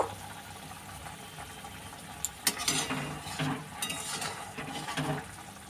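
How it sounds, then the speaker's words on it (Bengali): A spoon stirs a boiling homemade sweet mixture in a pot, making soft scraping and a few sharp metallic clinks against a quiet bubbling background, with no voices. "দেখো বন্ধুরা, ঠিক এইভাবে ফুটবে এবং এটাকে একটু নাড়াচাড়া করে নেব।"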